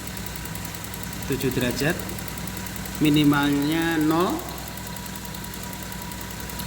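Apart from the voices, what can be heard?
Toyota Soluna car engine idling at 625 rpm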